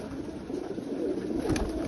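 Soft, rolling coos rise from a loft of racing pigeons bred by top European fanciers, several birds murmuring together close by, swelling slightly toward the end without any voices.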